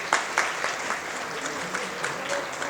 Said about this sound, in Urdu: ان کے لیے ذرا تالیاں بجائیں، ذرا پلیز تالیاں بجائیں.